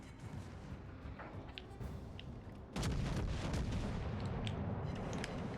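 Naval gun shells firing in the World of Warships video game, a distant booming salvo that lands about halfway through as a sudden loud, sustained rumble over a low background hum.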